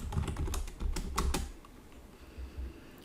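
C++ code being typed on a computer keyboard, a close run of quick uneven key clicks that thins out after a second and a half into a quieter, sparser tail.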